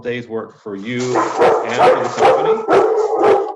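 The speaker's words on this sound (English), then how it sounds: "Sorry for the dogs." Several dogs bark and yip repeatedly nearby in the background while a person keeps talking over them, the barks coming in quick irregular bursts throughout.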